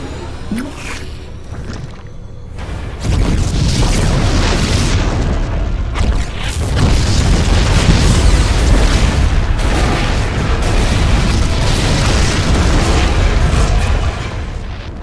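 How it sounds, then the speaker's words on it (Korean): Loud, dense explosions from the StarCraft II campaign, a heavy booming barrage that starts after a quieter opening and rumbles on continuously for several seconds before easing slightly at the end. "폭발이 멈췄습니다"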